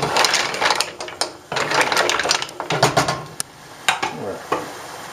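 A spoon stirs steaming mussels in broth inside a cooking pot, giving repeated clinks, scrapes and wet shell clatter in uneven bursts, close and fairly loud, with no talking.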